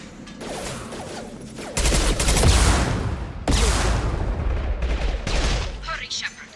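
Gunfire rattles in Mass Effect Legendary Edition during a firefight, with dense, loud bursts of shots and booms running almost without pause, and voices shouting among them.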